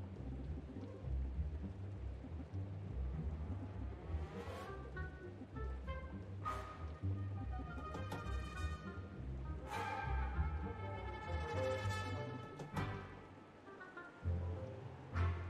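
Rain falls steadily in the horror video game Distraint, with low rumbling thunder underneath and a few sharp, bright hits. A faint musical tone rings over it.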